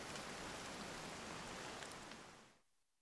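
Steady rain in Breath of the Wild, a dense, even hiss of falling drops that holds at constant loudness, then drops away abruptly near the end to quiet.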